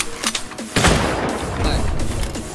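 Gunfire in Roblox Jailbreak, a few sharp shots followed by a sustained loud burst of firing and booming game noise, up close.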